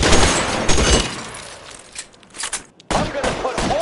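Gunfire in the video game L.A. Noire, a loud close fusillade of rapid shots that thins out, pauses briefly, then resumes with another burst; a voice speaks over it.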